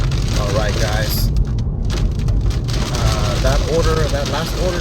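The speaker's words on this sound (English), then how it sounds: "As you can hear right now, it's raining pretty bad." Heavy rain pours steadily outside during a delivery shift, a loud, constant wash of drops beating on surfaces, joined by a brief louder burst and some faint passing tones.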